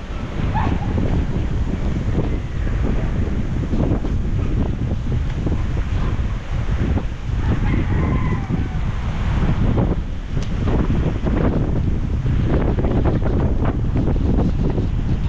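Strong, steady wind roars across the microphone with the churning wash of large waves, loud and continuous throughout.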